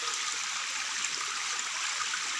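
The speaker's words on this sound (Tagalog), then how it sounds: "Lakas ng agos ng tubig." Strong stream water rushing near a cave at Guano Cave in Leyte, a steady, dense hiss of flowing water that holds constant and close with no voices.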